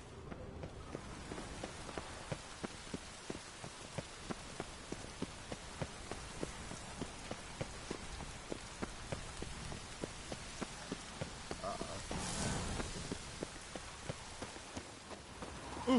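Steady rain falls in The Witcher 3, a dense continuous patter of drops on surfaces with sharper individual taps scattered throughout, holding even for the whole stretch and swelling briefly near the end.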